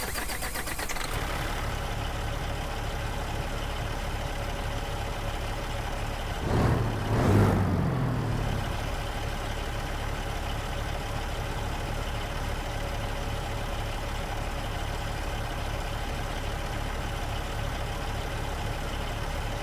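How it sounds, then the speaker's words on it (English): Peterbilt 389 truck engine in American Truck Simulator starts with a short rising crank and catches, then settles into a steady low idle that runs on evenly and quietly for the rest of the clip, with no talk. "I'm gonna turn that engine back on."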